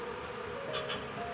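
Wild honey bees buzz in a dense, steady drone as they are moved into a wooden cultivation box in the late afternoon, with a couple of individual bees whining briefly closer by.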